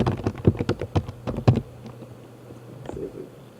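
Quick bursts of keystrokes on a computer keyboard as a website address is typed, close and crisp for about a second and a half before falling quiet.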